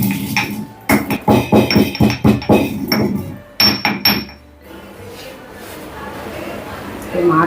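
Spices, freshly roasted until they change colour, pounded in a small stone mortar, giving a rapid series of loud, close, heavy thuds in bursts, then quieter handling sounds.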